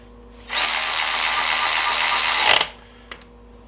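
A Milwaukee M12 3/8-inch cordless ratchet whirs loudly and steadily for about two seconds as it tightens a fastener, then jerks to a stop at the end, followed by a faint click.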